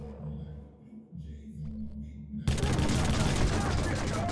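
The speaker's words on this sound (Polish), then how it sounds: "Czy to jest shotgun strzelający kilka strzałów naraz?" In Watch Dogs, a shotgun that fires several shots at once unleashes a sudden loud burst of dense, continuous gunfire that drowns out a quieter humming game scene before it.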